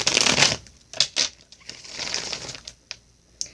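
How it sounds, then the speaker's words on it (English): A deck of tarot cards is shuffled by hand in a few quick, crisp riffling bursts separated by short pauses, close and clear with soft papery flicks between them. "I'm going to give you a few shuffles on camera"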